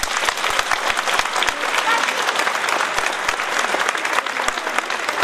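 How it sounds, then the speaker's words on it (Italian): Audience applause at an event in Castelluccio Inferiore, loud, dense and sustained throughout, with crowd noise mixed in. "vogliamo un vostro applauso per iniziare."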